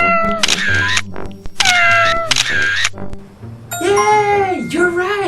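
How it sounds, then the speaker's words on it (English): A cat meowing in a guess-the-animal game, several loud, clear drawn-out meows with pauses between them, the last one longer and wavering, with no talk over them. "It was a cat."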